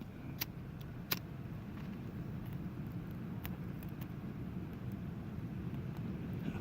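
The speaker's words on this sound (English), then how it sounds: "It's a little windy out today." Wind blows outdoors while a fire is being lit with a lighter, a steady low rumble buffeting the microphone throughout, with a few faint clicks and knocks on top and no voices.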